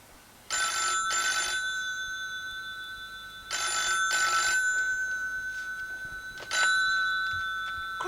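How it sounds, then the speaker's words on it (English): An old-fashioned telephone bell rings in three loud bursts, each a double trill with a pause between, in a quiet room at a roadside garage. "Heard the phone."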